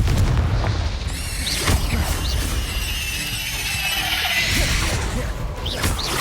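Confringo fire-blast spell explosions in the Hogwarts Legacy video game, a run of loud booming bursts with whooshes over dense game ambience and music, steady throughout.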